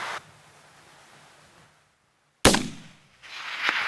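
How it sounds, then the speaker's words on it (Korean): A single sharp gunshot from hunters rings out in open Mongolian countryside, a sudden loud crack after a near-silent pause, followed by a broad rushing noise fading into outdoor ambience. "하지만 잠시 후 또 한 번의 총성이 울렸다"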